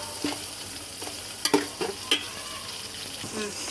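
Onions sauté in a pan for chicken biryani, a soft, steady sizzle broken by a few light spatula clinks and stirs, close and fairly quiet.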